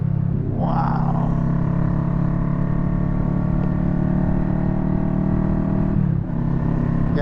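A 2021 Kawasaki Vulcan S motorcycle engine while riding on the road, with a close, steady droning hum and wind rush, a short rev rising near the start and a dip in pitch near the end as the throttle changes.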